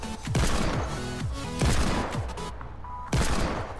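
Rapid bursts of gunfire in the Fortnite battle royale video game, several loud volleys in quick succession with brief pauses between them.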